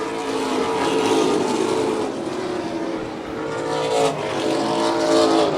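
A pack of Pro Stock race cars runs nose to tail in a 100-lap open invitational, several engines roaring loud and close in one continuous blended drone that swells as they pass.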